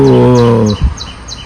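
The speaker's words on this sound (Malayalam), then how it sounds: "ഇതൊരു പച്ചത്തരിയുള്ള പ്രാവാണ്" A pigeon gives a loud, low, drawn-out coo up close that breaks off partway through, while faint chirps repeat in the background.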